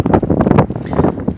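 A windy day on a fishing shore, forecast around 10 metres per second, with strong gusts buffeting the microphone in loud, uneven rushes and thumps.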